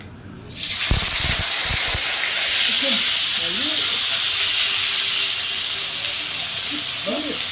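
Whole spices, garam masala, cardamom, cinnamon and clove, dropped into hot oil in a pan for a raw jackfruit and prawn gravy, set off a loud, steady sizzle that holds from start to finish with a few faint clinks.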